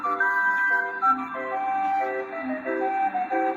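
Melodic jingle music from a ferry boat rings out continuously, a bright chiming tune with sustained notes and brief dips, heard alone without talk.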